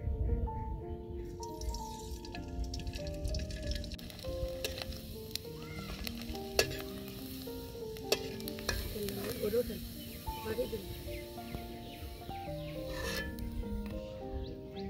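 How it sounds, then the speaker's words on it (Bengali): Pitha cakes fry in hot oil, a soft crackling sizzle with occasional drips and stirring scrapes, sitting beneath prominent background music for the whole stretch. "তেল গরম হয়ে গেছে এখন পিঠা দিয়ে দিব"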